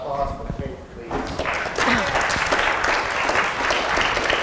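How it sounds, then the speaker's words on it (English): An audience at a marketing certification session breaks into applause, clapping swelling after a second and continuing steadily and loudly, with voices mixed in. "Another round of applause for Kate, please."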